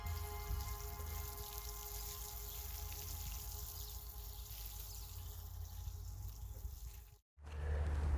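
Water poured slowly onto the soil of a lettuce bed, a soft, steady trickle and gurgle that runs evenly for several seconds, quiet and close, then cuts off briefly before resuming.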